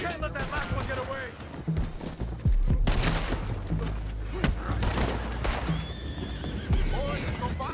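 Horses whinny and neigh amid a busy, noisy scene in the video game Red Dead Redemption 2, with scattered gunshots and clattering hooves, while voices talk throughout.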